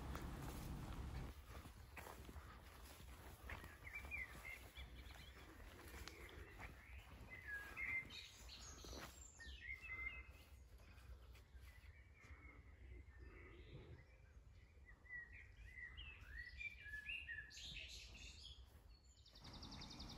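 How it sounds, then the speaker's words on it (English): Birds sing in woodland at a North Norfolk garden, with scattered chirps and calls at moderate distance over footsteps crunching along a path. "pause, and just take in the bird song and the lovely scenery"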